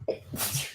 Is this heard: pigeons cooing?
no